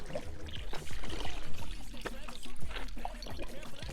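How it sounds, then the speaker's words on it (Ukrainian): Spring water flowing constantly, a steady close splashing and pouring with gurgling trickles throughout, fairly loud and continuous outdoors. "Постоянно вода тече."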